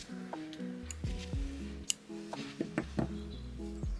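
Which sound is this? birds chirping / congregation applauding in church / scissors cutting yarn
scissors cutting yarn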